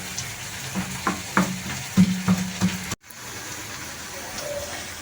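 Jackfruit and onion fry in a pan with a soft continuous sizzle, punctuated by a few stirring knocks and scrapes before a sudden cut, after which the gentle frying hiss carries on alone.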